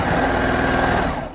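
A sewing machine stitching a neckband seam on a sewing project, a loud, close, rapid mechanical whirr running steadily and then winding down at the end.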